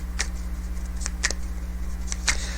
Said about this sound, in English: Let's give the deck a shuffle.